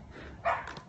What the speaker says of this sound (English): Got some barking dogs over here.